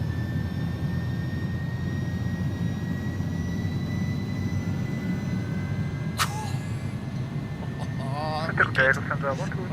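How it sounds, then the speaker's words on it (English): Jet engines of an Airbus A300 in a flight simulator spool up toward takeoff power with a loud, steady roar that builds. A clear spoken voice is heard over it near the end. "The engines are a lot slower to spool up now since the update as well."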